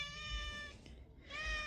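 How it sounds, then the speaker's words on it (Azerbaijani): A neighbour's cat meows twice, drawn-out and fairly faint, the two calls separated by a short quieter stretch over a low background rumble, with no talking. "bu əslində qonşunun pişiyidir"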